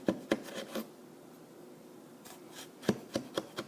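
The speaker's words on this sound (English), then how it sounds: "you just chop them up the same way on the other side" Knife chopping Italian sausage on a cutting board: a quick burst of four sharp, close knocks, a pause, then another run of four crisp chops.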